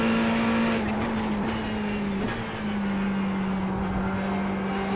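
A Ferrari 488 GT3 Evo race car engine in iRacing at Interlagos holds a steady, loud, droning tone at high revs, with slight pitch dips from shifting or lifting.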